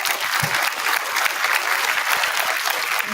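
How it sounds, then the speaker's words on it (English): Steady applause from a school audience at a 7th grade awards day honoring Fellowship of Christian Athletes members, dense clapping filling the room without a break. "Round of applause."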